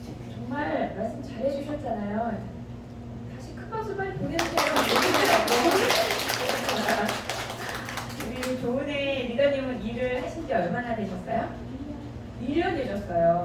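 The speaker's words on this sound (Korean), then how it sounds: "다시 큰 박수" Loud, dense applause from a seminar audience at a special lecture, breaking out after talk and lasting about four seconds before fading back into someone speaking.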